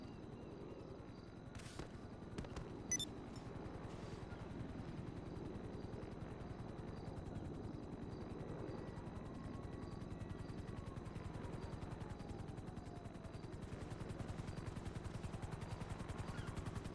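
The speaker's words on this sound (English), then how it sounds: "A helicopter has been dispatched to your location." A helicopter's rotor in Grand Theft Auto V thumps in a steady rapid rhythm throughout, moderately loud, with a few sharp bangs near the start.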